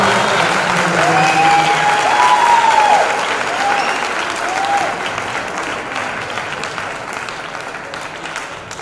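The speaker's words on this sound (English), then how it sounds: "Clap your hands for Jesus." A church congregation in India claps steadily and loudly for several seconds, the applause thinning slightly toward the end.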